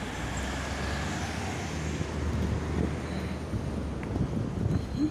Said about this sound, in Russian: Ветерок.